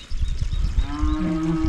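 A cow on a mountain farm moos in a long, low, steady call that rises out of rumbling farmyard noise and holds loud and close to the end.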